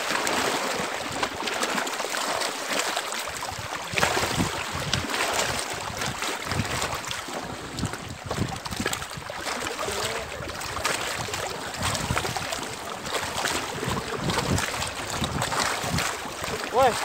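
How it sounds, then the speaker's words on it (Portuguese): Wind buffets a fishing boat in a constant, loud rush of broadband noise with gusty surges, with speech now and then beneath it. "vento tá atrapalhando"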